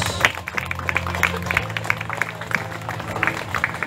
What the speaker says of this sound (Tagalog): Salawang malakas na palakpak sa Diyos.